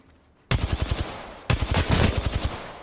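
Rapid automatic gunfire in a sci-fi shooter video game, two close bursts of loud, evenly spaced shots starting abruptly after a brief quiet lead-in, with no talking.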